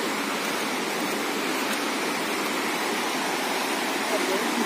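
Continuous broadband roar of a waterfall in Simlipal sanctuary, loud and steady with no breaks.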